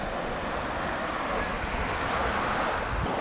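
Sea waves wash steadily onto a beach in Turkey, a continuous broadband roar of surf mixed with wind buffeting the microphone, loud and close throughout with no talking.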